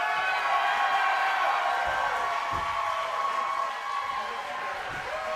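Crowd at a pro wrestling show cheering and whooping from a distance, a steady roar of voices with a few sharp thuds, heard under commentary.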